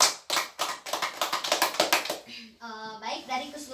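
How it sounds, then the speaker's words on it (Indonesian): Schoolchildren in a classroom clap their hands in a quick, rhythmic burst of close, sharp claps lasting a couple of seconds, then a voice follows. "Tepuk tangan dulu untuk kalian."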